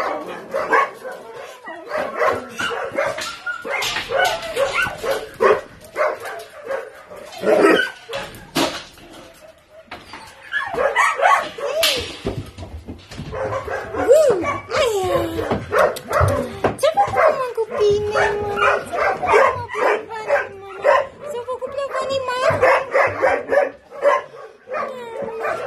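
A litter of mountain-breed puppies bark and yip continuously, close and loud, shrill overlapping yelps with whimpers, under occasional voices.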